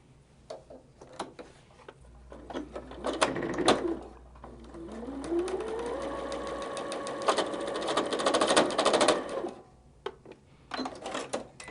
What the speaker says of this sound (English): let's sew that again real quick